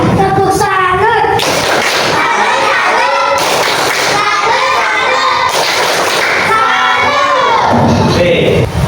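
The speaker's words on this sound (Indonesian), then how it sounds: "1, 2, 3, tepuk salut" Classroom students performing a rhythmic clap-and-chant routine led by the class captain, with loud children's voices chanting in unison, bursts of clapping and thumps in a steady pattern, sometimes shouted, close and continuous.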